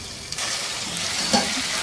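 Chicken sizzling in oil in a pot while cooking for chicken handi, a close, steady frying hiss with faint stirring scrapes throughout the short stretch.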